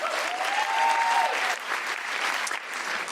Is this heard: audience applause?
yes